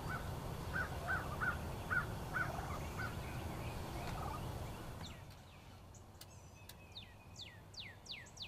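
Wild turkey gobblers call outdoors in a run of rapid gobbles at moderate distance, followed by several crow caws against a soft background hush.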